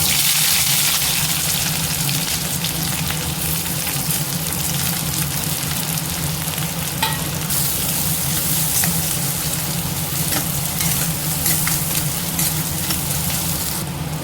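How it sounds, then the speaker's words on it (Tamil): Mustard seeds spluttering in hot oil, a steady loud crackling sizzle with a dense hiss and no pauses throughout, heard close up and alone. "எண்ணெய் காஞ்சிருச்சு, கடுகு சேர்த்துக்கலாம். கடுகு நல்லா பொரிஞ்சோன்னே"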